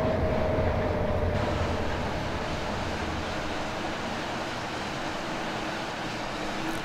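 An ÖBB 1189 Krokodil electric locomotive in Train Simulator Classic rolls into Semmering station on the Semmeringbahn, a steady loud rumbling roar of the train running continuously with no voices over it.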